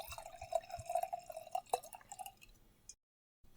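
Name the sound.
sake being poured into a glass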